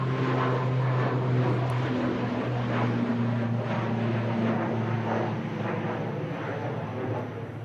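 A Transavia airliner in retro livery on approach to Manchester Airport, its engines a loud, continuous roar with a steady droning hum that fades slightly toward the end.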